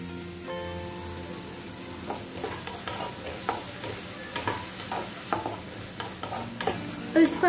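Carrots and capsicum stir-frying over a medium-high flame with soy sauce for soya momos, a steady sizzle under repeated spatula scrapes and stirring clatter, close and fairly even throughout.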